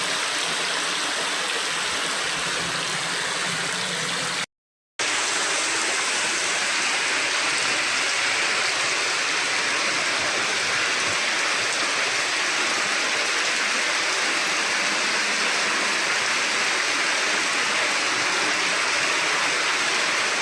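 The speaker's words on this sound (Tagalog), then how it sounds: "Ang lakas ng ulan." Heavy rain pouring steadily during the rainy season, a dense, even hiss of water on surfaces that continues without letup apart from a brief cut near the start.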